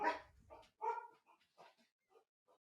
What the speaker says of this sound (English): As my dogs decide that there's someone to go see.